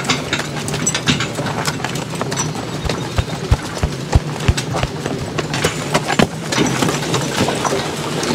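A draft horse's hooves clip-clop on a farm, several close, sharp hoof strikes spaced irregularly over a steady background rumble that sounds like an idling engine.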